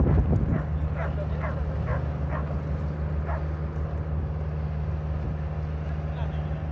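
Dogs rounded up by the municipality in Damavand, Iran, give a quick run of sharp barks and yips followed by a whimper, heard over a steady low engine rumble, with people talking.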